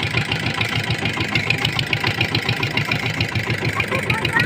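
Engine of a small fishing boat running on the water, a steady mid-low throbbing chug with regular pulses, close and loud, holding constant throughout.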